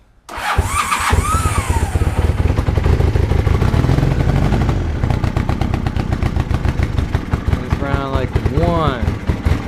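A Honda CB400 Hawk motorcycle, its plugs just cleaned and the fuel shut off, cranks and catches, then runs loud and close with a rough, uneven, sputtering idle.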